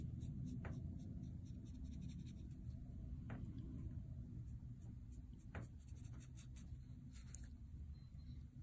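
Pen or brush inking a drawing on paper, faint scratchy strokes at a few spaced moments over a low rumbling background hum.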